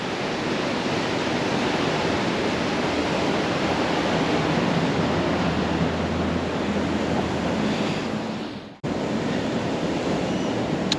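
Loud, continuous roar of high ocean surf during a king tide on the Oregon coast, a dense wash of breaking waves with strong wind noise, briefly cut by a dropout near the end.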